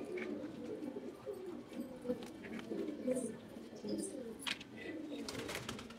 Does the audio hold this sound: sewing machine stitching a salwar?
no